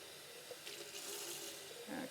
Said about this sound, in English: you fill your soda stream bottle up to the line, which is usually indicated on every bottle.